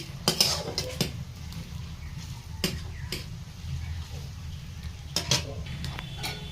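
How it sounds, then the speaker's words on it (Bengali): Chopped tomato tipped into a pan of chicken curry cooking over low heat, with a few sharp clatters of utensil against the pan over a soft, steady cooking noise. "বন্ধুরা এবার আমি টমেটো কুচি দিয়ে দিলাম"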